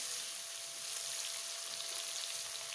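Onion, ginger and garlic frying in a pan, giving a steady, even hiss of sizzling oil with no talk.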